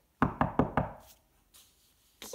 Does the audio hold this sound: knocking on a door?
yes